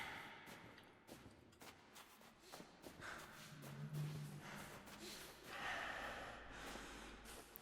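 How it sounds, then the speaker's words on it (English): Heavy breathing of a character in the video game Kholat, lost in caves, with faint gasping breaths and snorts over soft shuffling footsteps, low and distant under a quiet ambient background. "Listen to him breathing heavily."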